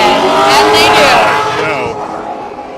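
Unmuffled race car engines roar loudly at Raceway Park, E-Town, during a gambler final round. The sound is near and sustained, with a sweeping pitch as the cars pass and a slow fade at the end. People talk underneath.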